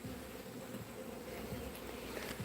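Honey bees hum steadily at a hive, a continuous close, even drone with no voices over it.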